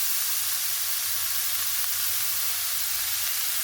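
Dry red chillies, garlic cloves, sliced onion and curry leaves fry in a pan for a village-style tender bean stir-fry, giving off a steady, soft hiss of sizzling oil with no voices.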